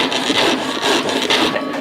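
A hand saw cuts a diagonal line through wood during construction carpentry practice, making loud, rhythmic rasping strokes, roughly four or five back-and-forth passes, close up with no talking.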